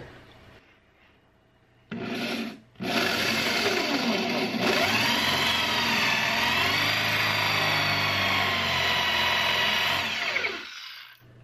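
A power drill whines steadily for several seconds after a brief start and pause, loud and close, then spins down and stops.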